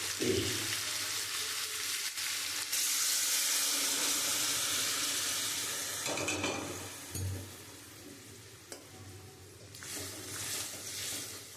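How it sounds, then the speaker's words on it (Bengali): Warm water poured into chicken curry frying in a pan, giving a steady hissing sizzle that swells as the water goes in and stays close and continuous, with occasional stirring sounds. "এখন আমি পরিমাণ মতন জল দিয়ে দেবো। আমি জলটা একটু গরম করে নিয়েছি।"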